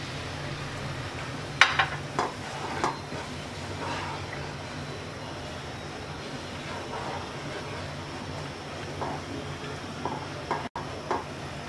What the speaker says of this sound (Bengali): চিনিটা মেল্ট হয়ে গেছে, দিয়ে দিচ্ছি 2 ইঞ্চি পরিমাণ আদা কুচি